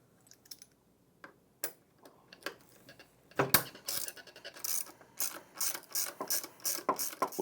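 Bolts being removed from an ATLAS buffer brush assembly with a ratchet wrench, sparse clicks at first, then a rapid run of repeated ratcheting clicks, close and alone.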